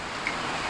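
Heavy rain falls steadily in a rural yard where chickens are kept, an even close hiss of downpour with no voices, constant for under a second.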